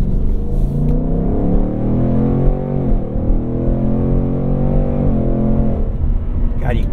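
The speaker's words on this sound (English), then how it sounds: "you gotta love the sound of that 5-liter V8" The deep 5-liter V8 engine of a 2021 Ford Mustang Mach 1 with automatic transmission rumbles loudly and steadily, its pitch dipping and climbing a couple of times as it revs, heard from inside the car.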